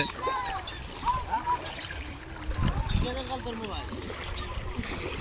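People bathe and play in floodwater on a road near Bhutni hospital, with scattered splashes and trickling water amid a busy background and talking voices.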